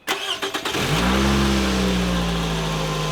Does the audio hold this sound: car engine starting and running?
yes